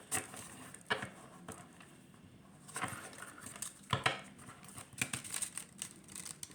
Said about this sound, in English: Let's see, we do a side shuffle.